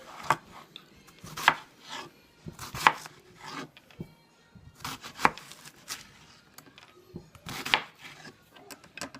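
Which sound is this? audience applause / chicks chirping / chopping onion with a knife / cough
chopping onion with a knife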